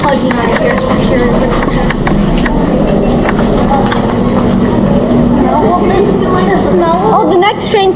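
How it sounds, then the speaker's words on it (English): A loud, rumbling train rolls past with rhythmic clatter and metallic squeals echoing inside Britannia Mine, with voices faintly mixed in. "Oh, the next train's coming."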